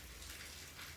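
Rain falls steadily outdoors, a dense even hiss of drops pattering on surfaces throughout, with no voices.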